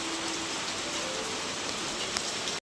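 Heavy rain pours down steadily in hot summer weather, a dense, even wash of drops drumming on surfaces that stays loud throughout before cutting off abruptly.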